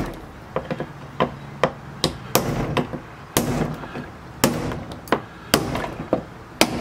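A hammer strikes the rusted rear control arms of a 2005-2010 Jeep Grand Cherokee to break them free, giving a dozen or so loud, sharp metallic blows in an uneven rhythm, close by, with no talking.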